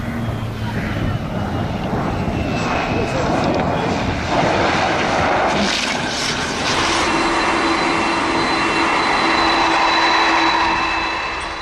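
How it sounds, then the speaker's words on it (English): A Blue Angels jet making a low transition takeoff roars loudly and steadily with a broad, rushing engine blast that swells slightly and holds close for the whole stretch. "The Blue Angels never fail to impress, and this low transition takeoff is pure skill and precision"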